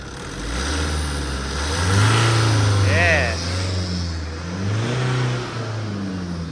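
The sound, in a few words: car engine revved after restarting a long-parked car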